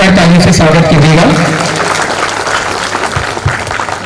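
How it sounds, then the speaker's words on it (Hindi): School audience at a Grandparents Day celebration bursts into loud applause to welcome a guest, dense clapping that fades after a couple of seconds as a voice begins speaking. "आप सभी से जोरदार तालियों से स्वागत कीजिएगा"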